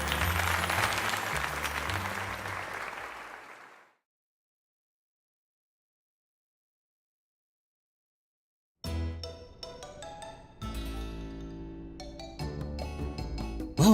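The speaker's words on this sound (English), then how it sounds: "let's give a heartfelt round of applause to Andrea." Game applause in Pokémon Legends: Z-A, a short burst of crowd clapping that fades out, followed after silence by jingling chimes and game music.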